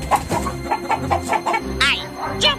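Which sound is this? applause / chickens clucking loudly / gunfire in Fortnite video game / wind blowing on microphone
chickens clucking loudly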